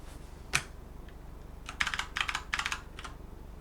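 Assembly code typed on a computer keyboard: one sharp keystroke, then a quick burst of soft clicks in clustered runs, close and fairly quiet against a low background hum.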